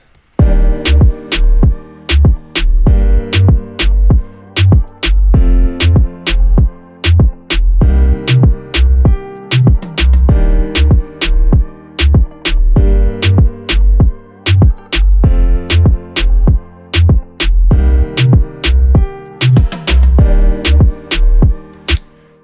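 A bouncy electronic beat made in FL Studio with punchy kicks and a hopping synth melody, steady and loud, with no voices.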